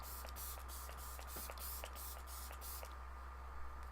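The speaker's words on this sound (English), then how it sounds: "I am going to use my Dewy Finish Hydrating Setting Spray from Flower Beauty." Flower Beauty Dewy Finish Hydrating Setting Spray is misted onto a face, a quick series of about eight soft, short pumps in a steady rhythm, close but faint over a low hum.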